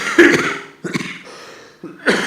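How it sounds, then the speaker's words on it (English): Several short, rough coughs from a speaker during a keynote speech come in quick bursts with brief pauses between them, close and fairly loud. "there'll be a bit of coughing and spluttering through the speech"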